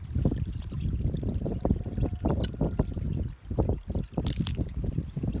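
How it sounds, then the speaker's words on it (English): Fresh running water trickles underground, gurgling and splashing close by in uneven, bubbling bursts, with no talking. "I have got fresh running water down here"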